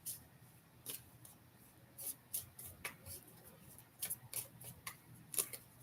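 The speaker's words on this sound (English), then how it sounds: "Just want to do a quick full shuffle." Tarot cards shuffled in a quick full shuffle, heard as a string of short crisp papery snaps and riffles scattered irregularly over quiet room noise, close to the listener.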